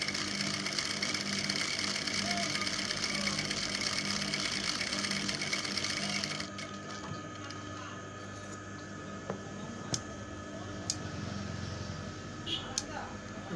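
A sewing machine stitches a kameez collar with a steady, fast mechanical whir for about six seconds, then stops, leaving scattered light clicks and handling sounds.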